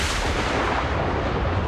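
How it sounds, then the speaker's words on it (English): A loud, dense crack and rumble of thunder, booming continuously for a couple of seconds with no voices. "Thunder."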